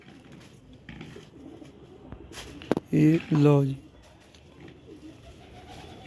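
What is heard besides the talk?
pigeons cooing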